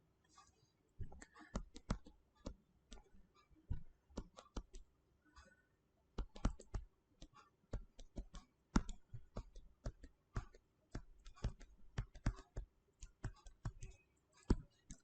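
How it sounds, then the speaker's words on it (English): Sharp clicking and tapping strokes of an equation being written out, close and fairly distinct, coming in irregular bursts with short pauses between them. "Now see how I am writing."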